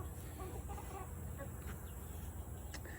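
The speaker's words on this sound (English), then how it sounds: "we do have some small chicks that outgrew their indoor brooder" Chickens and small chicks cluck and cheep on a farm, short soft calls scattered over a steady outdoor background, faint and fairly distant.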